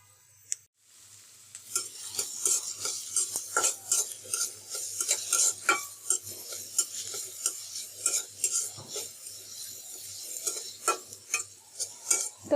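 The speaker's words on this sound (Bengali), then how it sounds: "এখন এর মধ্যে আমি পেঁয়াজ কুচিগুলো দিয়ে দিচ্ছি কাঁচামরিচ কুচিগুলো" Chopped onion and green chili fry in hot oil with a bright, steady sizzle, while a spoon stirs and scrapes the pan in repeated clinks and knocks, close and fairly loud.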